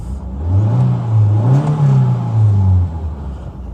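A Citroen BX 16TRS engine revs on dyno rollers, a loud, close mid-pitched drone rising and falling with throttle over a continuous whir.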